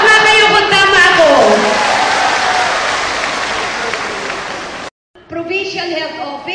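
Audience applause at a community gathering of volunteers, a dense sustained clapping that gradually fades, breaks off abruptly, then resumes briefly with voices mixed in.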